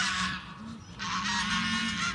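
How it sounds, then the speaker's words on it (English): A group of geese in Queenstown honk loudly and close by, overlapping calls in two bursts separated by a brief lull, with steady outdoor noise underneath. "I've found a group of geese"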